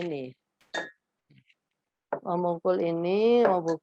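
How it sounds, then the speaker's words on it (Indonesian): A drinking glass struck once gives a single short, bright clink with a brief ring. After a quiet gap, an adult talks at close range. "gelas kaca, itu suaranya begini."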